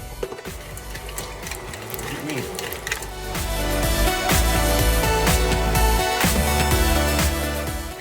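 KitchenAid stand mixer beating soft butter for spritz cookies, a steady close motor whir with rattling, clanking beater knocks that grow louder partway through.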